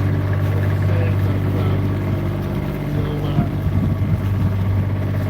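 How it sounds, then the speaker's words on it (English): A steady low engine drone from a boat motor runs throughout, loud and constant with water and wind noise around it. "probably might have a pile of engine noise"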